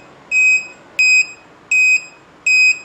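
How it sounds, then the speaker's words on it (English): An Arduino buzzer sounds in a changed tone, four short piercing electronic beeps in an even rhythm with brief gaps of quiet between them, loud and close. "the buzzer is ringing in a different tone, much different than the first tone"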